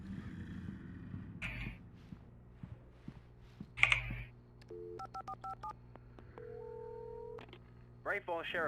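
Telephone dialing in the video game Alan Wake: a quick run of short keypad beeps, followed by a longer tone, set among clicks and game sounds. Someone talks over parts of it.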